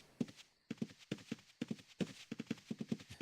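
Horse hooves in Ultima Online clip-clop in a quick, even trotting rhythm, a steady series of close hollow knocks with no other sound.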